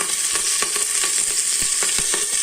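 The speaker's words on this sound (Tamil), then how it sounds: "எண்ணெய் காஞ்சிருச்சுங்க. கடுகு போட்டுக்கலாம். கடுகு பொரிஞ்சிருச்சுங்க." Mustard seeds, chillies and curry leaves fry in hot oil, a dense steady sizzle broken by sharp crackling pops from the seeds, close and loud with no talk.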